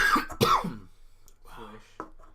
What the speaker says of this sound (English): Man, you cough a lot.